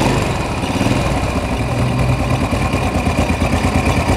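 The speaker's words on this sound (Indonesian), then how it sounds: "Kita tinggal nyalakan untuk bagian mesinnya, Jek." A repaired motorcycle engine, fitted with a new piston after an oil-to-head fault, idles steadily and loudly up close, a continuous rumbling putter with an even rhythm and no talk over it.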